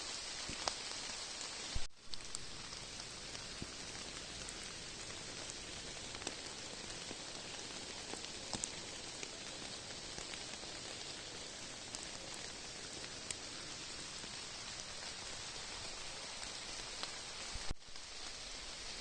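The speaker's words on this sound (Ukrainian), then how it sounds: "Дощ так посилюється, трохи змок." Steady rain pours down in a Carpathian forest across the whole stretch, a dense even hiss with scattered drops pattering on leaves and surfaces, with no voices.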